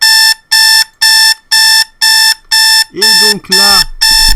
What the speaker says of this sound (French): il y a l'alerte qui se met en route